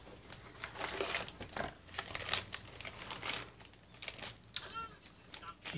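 Crinkly plastic packaging being torn and opened on a diamond painting kit, loud close crumpling and rustling in uneven bursts throughout, with some voice in the background.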